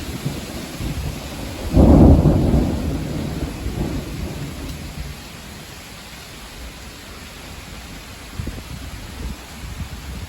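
A rumbling thunderstorm with steady rain; a loud, deep thunder roll swells near the start and slowly fades into a continuous wash of rainfall, with a faint rumble returning late.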